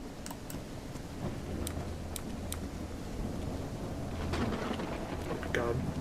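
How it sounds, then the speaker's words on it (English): A thunderstorm in the video game Call of the Elder Gods, with steady rain hissing and low thunder rumbling throughout, plus a few sharp crackles and clicks. "God, the storm's dangerous."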